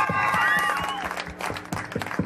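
A crowd at a motorcycle club anniversary event claps steadily, with whistles and cheering mixed in.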